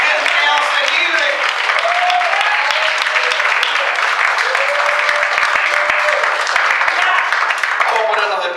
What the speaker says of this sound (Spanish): Den un aplauso grande a Jesús, Señor.